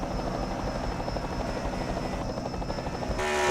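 A helicopter in a racing video game drones steadily throughout, a continuous buzzing rotor sound heard alone at moderate level, swelling slightly louder near the end.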